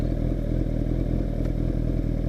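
A Kawasaki ZX10R motorcycle idles steadily up close while a rider learns to come to a stop, its engine a continuous loud rumble with faint regular clicking ticks running through it.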